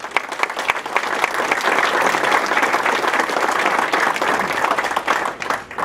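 An audience at a State of the City address breaks into loud, sustained applause that fills the room for several seconds before tapering off at the end.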